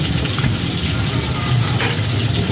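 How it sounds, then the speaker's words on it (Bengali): Tilapia fish frying in hot oil gives a loud, steady, close hiss and sizzle that holds without a break. "এই যে মাছ ভাজা চলছে, তেলাপিয়া মাছ ভাজা"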